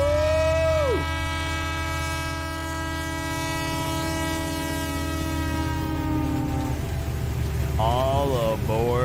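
A train horn blows as a sound effect on a sports talk show, steady sustained chords with a rumbling rail background, starting loud, then a voice cuts in near the end over the fading horn.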